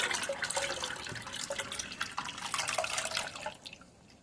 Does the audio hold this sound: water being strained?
yes